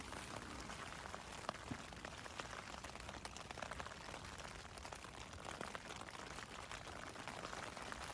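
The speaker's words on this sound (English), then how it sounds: "Still raining, which is nice." Steady rain patters densely on a taut tent fabric overhead beside a frozen lake, a soft continuous drumming of drops with no voices.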